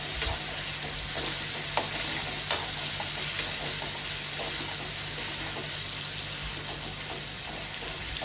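Ingredients with salt being sautéed and stirred in a pan, a steady close sizzle running throughout with occasional sharp clicks of the utensil against the pan, with no talking.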